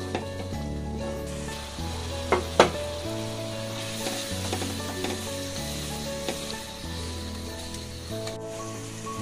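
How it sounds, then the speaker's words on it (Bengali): Masala with blended coconut paste frying and being stirred in a pan for hilsa malaikari, a steady close sizzle broken by a few sharp scrapes and clacks of the spoon, with no voices. "এখন আমি এটাকে ভালোভাবে কষিয়ে নিব।"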